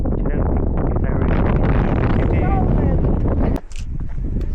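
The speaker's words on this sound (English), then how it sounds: "as you can tell, very windy" Strong wind roars and buffets across the microphone at a hillside viewing point, a loud gusty rumble that drops away sharply near the end, leaving a quieter breeze.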